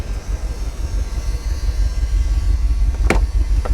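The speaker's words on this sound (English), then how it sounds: "Hear those fuel pumps whining?" Car fuel pumps whining: a steady low hum and drone with a faint high whine, alongside a low engine rumble, and one brief sharp click near the end, no talk.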